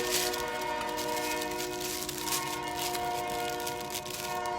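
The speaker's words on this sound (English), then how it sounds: "Wow, surprise! The trains." A train passing near railroad tracks sounds a loud, steady, horn-like chord of stacked tones that lasts throughout, with rumbling hiss beneath.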